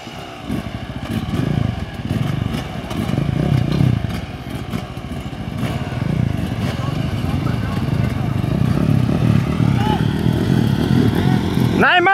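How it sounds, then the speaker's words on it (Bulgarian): Many motorcycle engines start together at a mass drag race start in a quarry on Lyulin mountain, a loud, dense, rumbling clatter that grows over the whole stretch, with people talking and shouting over it. "Аре, пали моторите!"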